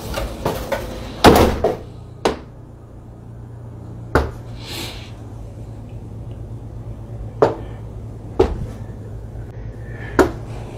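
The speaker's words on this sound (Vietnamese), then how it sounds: "những tiếng gõ ma quái lại phát ra" Sharp, isolated knocks strike inside a house at an uneven pace, about eight in all across several seconds, with a quiet hum between them and no talking.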